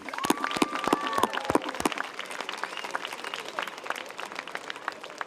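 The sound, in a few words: applause for the graduating class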